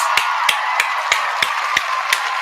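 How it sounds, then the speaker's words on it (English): Sparse claps at a live podcast shout-out, about eight separate sharp hits spaced roughly evenly over a couple of seconds, like a small group clapping unevenly with a steady background hum underneath. "So please get a round of applause together for Premier Cocktails."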